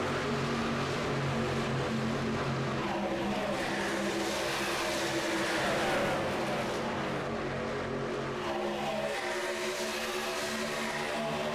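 Race cars run laps at Fontana's Auto Club Speedway in the iRacing sim, a steady, dense engine drone with layered harmonic tones that swells and fades as cars pass, continuous and fairly loud with no talk.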